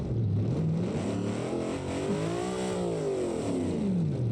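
A Corvette fitted with a 21-litre engine in BeamNG revs loudly and continuously, its deep roar sweeping up and down in pitch with no talk.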